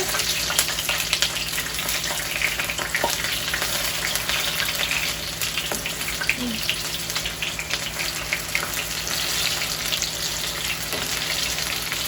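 Food frying in a pan in a home kitchen sizzles and crackles continuously at close range, a dense even hiss with small pops. A voice is faintly present now and then.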